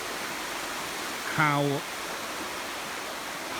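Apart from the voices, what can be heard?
water flowing over a historic river weir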